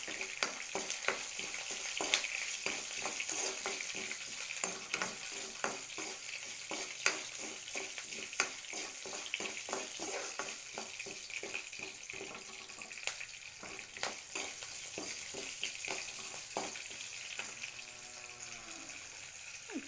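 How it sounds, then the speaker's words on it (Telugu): Onions and green chillies fry in a pan with a steady, dense sizzle, broken by regular scraping and stirring strokes that tap out a loose rhythm for about twenty seconds; no talking. "ఈ ఉల్లిపాయలు ఇప్పుడు గోల్డెన్ కలర్ వచ్చేదాకా ఫ్రై చేయాలి."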